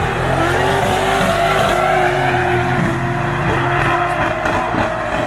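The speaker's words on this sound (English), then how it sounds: "It sounds like one of these cars has got a huge misfire as they come point the tower in." Racing cars at a British Drift Championship round, with one car's engine running with a heavy misfire as they come past the tower; loud, continuous engine roar with rough, stuttering harmonics, tire noise and no talk.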